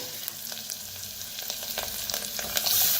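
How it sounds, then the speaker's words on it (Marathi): Buttermilk goes into a hot tempering with turmeric and coriander, giving a dense, close crackle and sizzle with scattered sharp pops, growing a little louder toward the end, with no speech. "आता जे आपण ताक बनवून घेतलेलं आहे ओतूया."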